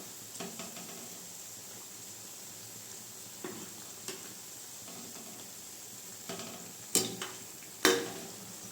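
Bondas made from idli batter fry in hot oil over a medium flame, a soft steady sizzle with occasional scraping and clinks as they are turned, ending in two sharper metallic taps.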